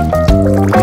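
Water pours and trickles steadily from a cartoon character's vessel to hunt for a small puncture hole, a liquid filling sound with a brief splash partway through.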